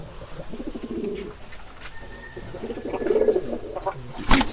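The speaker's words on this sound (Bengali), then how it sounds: "দেখেন কবুতরটা বসে আছে ডিমের জন্য" A pigeon brooding on its eggs makes low, throaty coos in short rhythmic bursts, with a few brief higher chirps heard close by.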